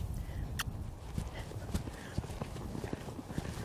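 Horse hooves at the lope on an arena surface, a soft rhythmic three-beat clip-clop repeating steadily at moderate distance, with a faint voice underneath.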